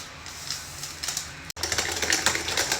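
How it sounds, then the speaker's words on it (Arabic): Cake batter with vanilla being beaten hard in a bowl, a rapid, steady clattering and scraping that continues close by throughout, cut by a brief pause partway through. "نضرب نضرب نضرب نضرب نضرب فيها كتير لحد ما لونها يصفر"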